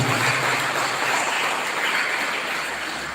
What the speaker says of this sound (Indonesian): Tepuk tangan untuk JKHNU.